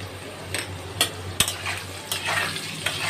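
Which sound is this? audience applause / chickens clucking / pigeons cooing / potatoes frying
potatoes frying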